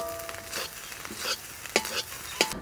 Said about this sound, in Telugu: ఇలా హై ఫ్లేమ్లోనే 3-4 నిమిషాలు కలుపుకుంటే సరిపోతుందండి